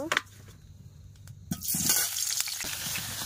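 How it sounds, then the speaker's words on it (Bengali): Potatoes dropped into hot oil in a wok over a village clay stove, a burst of loud sizzling that starts midway after quieter handling clinks and keeps hissing steadily up close. "কড়াইতে তেল দিয়ে দিয়েছি। এবার আলুগুলো ভেজে নেব।"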